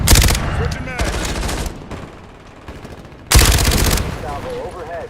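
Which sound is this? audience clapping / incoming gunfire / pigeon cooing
incoming gunfire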